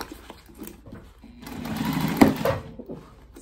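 A sewing machine runs through a bag in a short buzzing burst that swells in the middle and then fades, with faint thumps around it.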